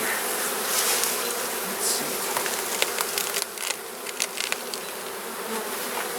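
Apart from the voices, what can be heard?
honey bees buzzing around an open beehive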